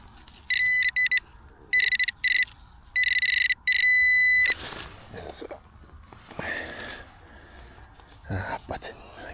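Metal detector giving signal tones while searching a clod, several sharp electronic beeps in short bursts early on, followed by a person speaking softly and rustling handling noise.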